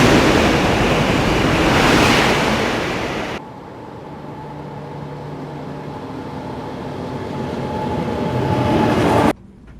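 A high-speed SRT train roars past in a loud rushing burst, then gives way to a quieter steady hum before cutting off abruptly.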